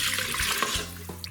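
Water is poured into a pressure cooker pot as a steady, close splashing stream with a hollow gurgle, some 3.5 cups of it running briefly and alone.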